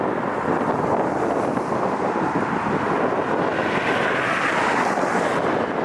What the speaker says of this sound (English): It's a little bit windy here, but we'll get through it.